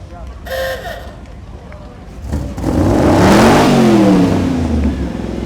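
A Chevrolet Monte Carlo SS rolls down Main Street in a Founders Day parade, its engine revving loud and close, swelling from about the three-second mark, with voices talking over the earlier part.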